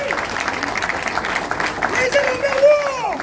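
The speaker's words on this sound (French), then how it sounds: "notre collègue Maître Lombe Soukari, que je vous demande d'applaudir." An audience applauds a colleague during a ceremony where a culture minister meets performing artists, with steady clapping under a speaking voice and a brief rise toward the end.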